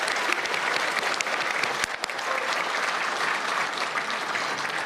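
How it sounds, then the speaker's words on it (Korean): Loud, dense applause from a large audience at a New Year's gathering, a steady wash of many hands clapping together for the full stretch, close and sustained with no talk over it. "다시 한번 뜨거운 박수 부탁드립니다."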